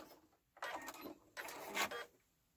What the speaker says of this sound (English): Now that seems to be stitching better.